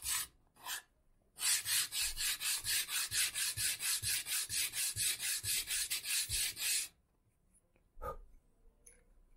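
A sanding block rubs back and forth on guitar wood in a fast, even run of about two dozen raspy strokes, close and loud, after a couple of brief scrapes, then quiet.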